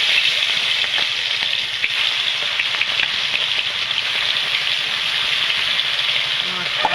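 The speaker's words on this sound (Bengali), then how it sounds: "তেলটা গরম হয়ে গেছে, মাছগুলো ভেজে নেব।" Tilapia fish frying in hot oil in a kitchen pan gives a continuous, dense sizzle with fine crackling, steady and close throughout.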